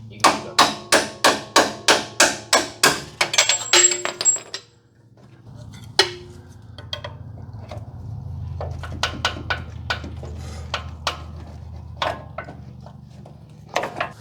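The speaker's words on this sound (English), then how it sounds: "Drove the bolt out with a screwdriver." A 3rd-gen Toyota 4Runner shock bolt is driven out with a screwdriver struck by a hammer: about a dozen sharp, loud metallic blows in a fast steady rhythm, then scattered lighter taps and clinks over a low background rumble.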